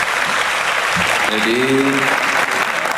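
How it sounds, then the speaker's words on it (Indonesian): An audience at a Bugis-style Maulid Nabi gathering claps in unison, a steady wash of applause heard close and loud while someone speaks over it. "tepuk tangan dulu"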